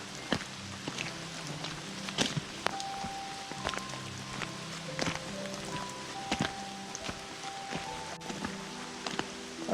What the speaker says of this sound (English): so I'm fed up with this rain